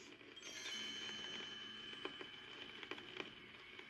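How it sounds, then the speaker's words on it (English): Faint, light tinkling of small bells, several quick chimes scattered over a few seconds against a soft hiss. "You will know it is time to turn the page when Tinker Bell rings her little bells like this."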